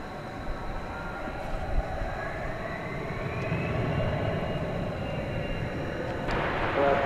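An American Eagle CRJ 701ER regional jet operated by SkyWest Airlines departing at night from an airport, its engines a steady roar that slowly swells with a rising whine, heard from a distance.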